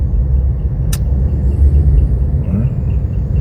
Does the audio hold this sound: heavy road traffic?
yes